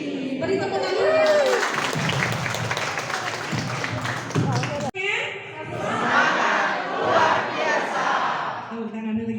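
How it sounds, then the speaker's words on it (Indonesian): Audience at a public speaking lecture claps and cheers loudly and steadily, with shouts and crowd voices over the applause, briefly cutting out midway before swelling again. "Beri tepuk tangan."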